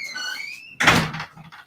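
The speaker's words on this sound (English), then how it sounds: "I need to put some more oil in his door too." A door in need of oil swings open with a drawn-out, rising squeak of the dry hinge, followed by a louder bump and rattle as it moves, heard close and alone.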